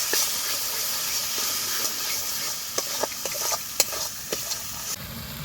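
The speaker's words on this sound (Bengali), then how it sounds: "দিচ্ছি টমেটো কুচি, দিয়ে ভালো করে মশলাটা কষে নেবো" Spice paste with chopped tomato fries in oil, giving a steady close sizzle with soft stirring scrapes and a few sharper clicks of the spoon against the pan.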